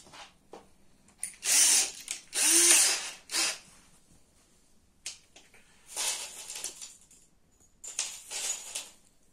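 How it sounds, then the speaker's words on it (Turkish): Power drill driving screws into a homemade wooden cabinet frame, in several short whirring bursts separated by pauses, close and fairly loud with no talk. "Vidalamasını başlatayım ben bunu."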